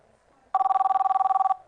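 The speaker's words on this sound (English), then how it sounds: "We got a lot of phone calls coming in." A telephone bell rings once with a rapid trilling burst lasting about a second, clear and fairly loud, signalling an incoming call to a live call-in stream.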